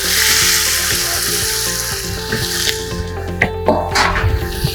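Heart, liver and kidney fry in a pot with turmeric, giving a loud, steady sizzle with wet bubbling and occasional stirring scrapes, and no voices present.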